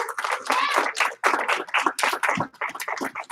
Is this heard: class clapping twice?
yes